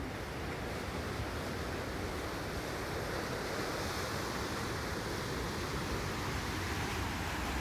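Ocean surf breaking beneath sandstone cliffs on a coastal hike in Kauai, a steady loud broadband roar with constant wash and some wind buffeting, no distinct gaps, and no voices.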